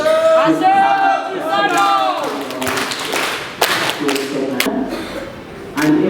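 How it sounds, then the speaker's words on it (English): Audience applause and cheering for Minister Milly Babirye Babalanda at a public gathering, a dense run of claps that fills the whole stretch, with voices and a sustained tonal sound carrying over it at the start. "Round of applause again to our minister for sparing time among your busy schedules."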